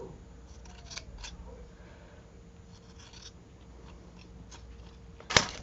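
Scissors snip a small piece off a strip of lace, soft handling rustles followed by one crisp, close cut near the end in a quiet room.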